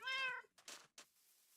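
A cat in a video game gives one clear, tonal meow followed by two short breathy bursts, quiet and close, with no talk.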